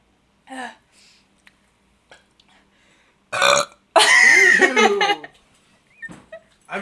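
Loud, drawn-out burps during a burping challenge, one long croaking belch after a shorter one, with a few faint breathy sounds and quiet gaps between them.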